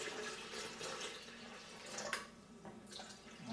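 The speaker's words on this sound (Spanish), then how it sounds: "Vamos a llenarlo a la mitad y nos vamos a percatar si realmente se está llenando." Water runs steadily into an electric kettle during a home repair check, a soft continuous faucet stream with faint splashing that quiets toward the end.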